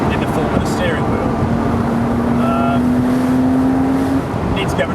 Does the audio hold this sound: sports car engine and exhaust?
yes